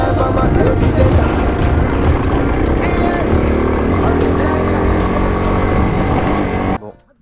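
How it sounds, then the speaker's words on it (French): A motorcycle with a broken accelerator runs loud and close, its engine droning steadily with a rough rumble before cutting off abruptly near the end. "la moto est encore en panne. L'accélérateur est pété."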